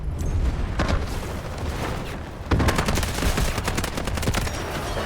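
Rapid automatic gunfire from an SMG-45 in the video game Delta Force, loud clattering bursts that thicken into dense sustained firing in the second half.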